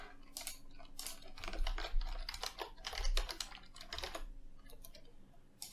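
Steady bursts of keystrokes on a computer keyboard, close and clear, as a certificate name is entered, with brief pauses between runs of taps.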